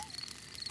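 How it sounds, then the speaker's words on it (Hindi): A brief, faint chirping of crickets in a cartoon night scene, a thin high trill over soft background hiss lasting under a second. "ये कीड़ों की चींची आवाज है।"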